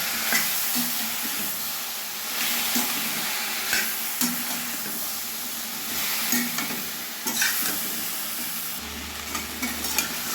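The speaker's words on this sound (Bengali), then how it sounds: "এবার সব একসঙ্গে মিশিয়ে আর একটু ভেজে নেব।" Vegetables and ground spices stir-fry together in a pan. A steady hiss runs for about ten seconds under repeated scraping and clinking strokes from stirring, close up, with no voices.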